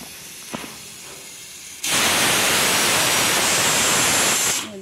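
A pressure cooker cooking toor dal on a gas stove bursts into a loud, sustained hissing whistle of steam after a quiet start, then cuts off abruptly near the end.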